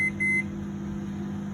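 A microwave oven beeps twice in quick succession after baking a chocolate cake, clear tones over the steady whir of the running appliance.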